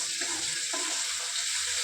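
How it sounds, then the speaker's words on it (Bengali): Dried red chilli, garlic and bay leaf tempering in hot oil in a home kitchen, a steady close hiss of frying running throughout with a few brief stirring scrapes near the start. "আর এখন আমি এখানে ফোড়ন দিয়ে দিব শুকনো লঙ্কাটা তার মধ্যে এখন দিয়ে দিব রসুন তার মধ্যে দিয়ে দিব এখন তেজপাতা"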